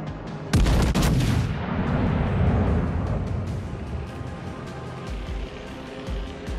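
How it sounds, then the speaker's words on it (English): Naval artillery in the warship battle game World of Warships: Legends: one loud, close cannon blast followed by a long rolling boom that slowly fades into a low rumble, with faint clicks in the background. "Concentrate fire on the enemy warship."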